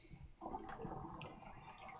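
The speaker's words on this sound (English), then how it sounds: "You'll hear my water draining." Water draining from a sink after a shaving scuttle was filled, a faint gurgling, trickling flow with small splashes and drips, quiet and close, with no speech.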